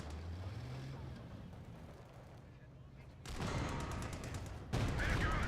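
Spigot weapon firing in the Company of Heroes 2 game, with blasts and gunfire erupting in two loud bursts over a rumbling battlefield background, the last volley the heaviest.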